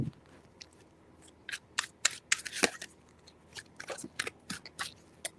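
Tarot cards being shuffled by hand, a series of quick riffling bursts and flutters in irregular clusters, close and fairly crisp, with brief pauses between shuffles.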